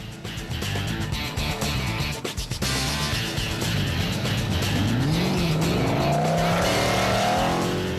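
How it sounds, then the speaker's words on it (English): A rally race car at a 90-degree turn in the 2011 Magalies 400. The engine is loud and close, roaring and revving steadily. Near the end its pitch rises sharply as it accelerates out of the corner. "Boyens and Ferrie then lost a second or two at a 90-degree turn."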